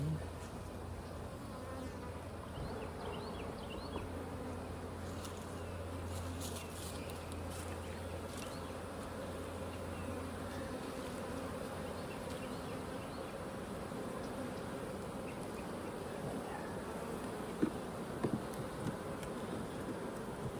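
Honeybees buzzing during a hive inspection, a dense steady hum of many bees up close that continues unbroken, with a few faint handling clicks near the end.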